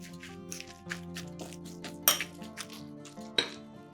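Sugar and orange zest being stirred in a bowl with a spoon, giving soft scraping and several sharp clinks of metal against the bowl at an irregular pace, close and fairly quiet with no talking.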